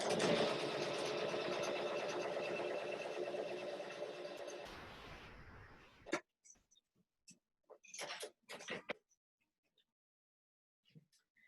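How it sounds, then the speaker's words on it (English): Sewing machine running a quarter-inch side seam on pinwheel quilt blocks, a steady continuous whir for several seconds that stops abruptly, followed by scattered handling clicks and fabric rustles. "I'm going to sew 1/4 inch seam down the side"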